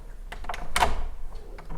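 A house door being unlocked and opened at night, with three locks: a few short metallic clicks and rattles, then a louder burst of handle and latch noise near the middle, close by with no speech.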